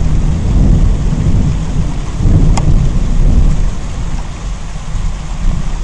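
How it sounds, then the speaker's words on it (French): Heavy rain pours down in a thunderstorm, a steady loud roar with deep rumbles of thunder swelling and fading throughout, no voices. "La pluie commence à battre les maisons."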